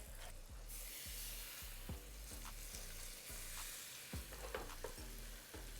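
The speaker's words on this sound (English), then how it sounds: "now I'm going to add my salmon right in there" Salmon sears in olive oil in a skillet over medium-high heat, giving a loud, constant close sizzle with steady spattering crackle and no talking.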